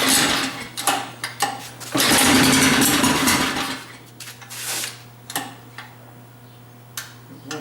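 Small gasoline engine on a homemade gadget bike, carburetor unadjusted and choke partly on, runs close by with a steady low hum and a rapid ticking rattle, swelling into a brief revving surge before falling back to uneven idling.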